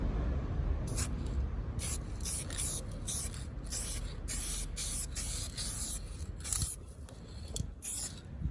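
An aerosol spray can applies metallic paint to a BMW E46 car sill in quick repeated bursts of close hissing, separated by short pauses, with no talking.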